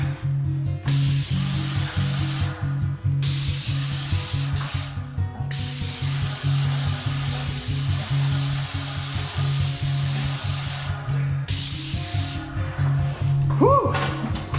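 Aerosol spray painting a staircase: a loud, continuous hiss in long bursts with brief pauses between, a steady low hum underneath, and a short rising squeak near the end.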